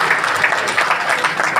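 An audience claps steadily and fairly loudly at a public gathering, dense applause continuing throughout without pause.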